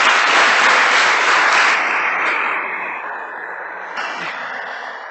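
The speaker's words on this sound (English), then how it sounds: "Would you please give a round of applause to her?" Applause from an audience at a Sunday temple feast program, dense clapping loud at first and gradually thinning and fading over several seconds.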